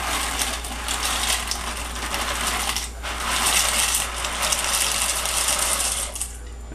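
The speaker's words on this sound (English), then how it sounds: "Red wine has begun to boil, and we're going to be adding the pasta." Dry pasta, a whole 14.5-ounce box, poured into a pot of boiling red wine, giving a steady loud rattling, clattering rush of hard pieces that runs almost continuously with a brief dip near the middle, no voices.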